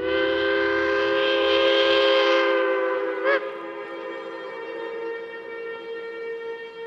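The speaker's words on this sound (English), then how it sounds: "The train's in town." Film trailer sound of a train arriving in town, its whistle sounding a long, loud, steady chord that fades slightly, with a brief clank midway and no talking.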